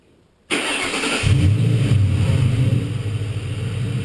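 An overheating car's engine cranks and catches in a garage after a brief quiet moment, then settles into a loud, steady rumble close by.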